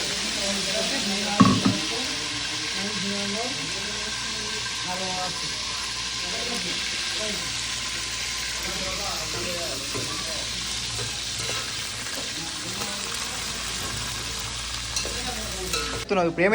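Mustard seeds, cumin, tomato and onion fry in a pan with a continuous hissing sizzle, broken by occasional spatula stirs and pops, while voices murmur faintly in the background.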